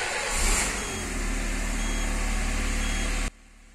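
Peugeot car engine idling steadily after being started, a continuous close mechanical hum with a faint rhythmic pulse that cuts off abruptly near the end.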